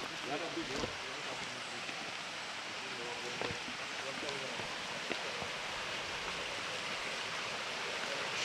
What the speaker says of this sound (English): So we are here at the waterfall